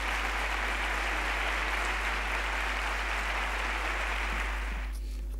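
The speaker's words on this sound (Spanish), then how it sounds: "les pido un fuerte aplauso para él" An audience applauding a minister at a formal event, sustained dense clapping from a large crowd that holds steady and then cuts off abruptly near the end.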